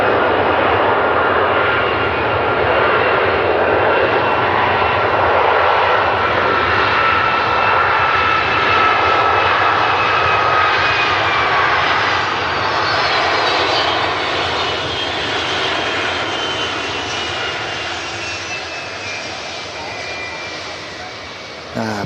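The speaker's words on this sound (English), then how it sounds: "Jet 275 Alpha touching down here on 23 right" A jet airliner landing on runway 23 right at Manchester Airport, its engine roar loud and steady before slowly fading as it rolls out, while someone talks over it throughout.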